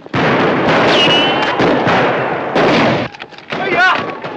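Gunfire rings out during a wagon battle in the 1950 western film A Ticket to Tomahawk, loud dense bursts of shots and booms that run almost continuously, mixed with shouting voices and a horse's whinny.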